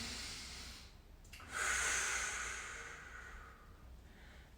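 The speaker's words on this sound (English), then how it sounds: "And a deep breath." A single deep breath drawn in and let out during a windmill stretch in a mobility routine, a soft airy inhale swelling then fading, close and quiet with no talk.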